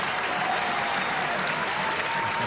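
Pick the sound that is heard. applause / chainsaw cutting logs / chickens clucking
applause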